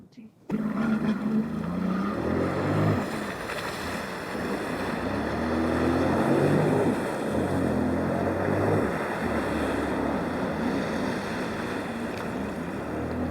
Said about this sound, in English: Jet skiing in October in the tank.